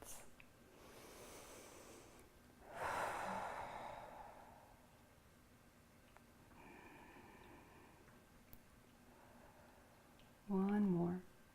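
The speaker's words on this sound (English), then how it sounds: "take 3 slow breaths" During an evening yoga session, a slow, deep breath rushes out as a soft, airy exhale. Quieter breathing follows, and a voice speaks briefly near the end.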